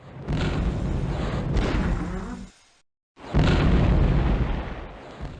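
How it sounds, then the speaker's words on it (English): Grenade launcher blasts in the 1990s video game Crusader: No Remorse, two long roaring explosion bursts split by a brief silent gap, loud and dense with rumbling low end. "once we do have it, it causes massive explosions around the screen"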